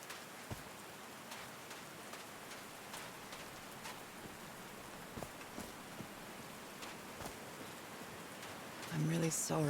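Rain falling in the Call of the Sea video game, a steady soft patter of drops with scattered louder taps, fairly faint throughout, with a brief louder burst of other game sound at the end.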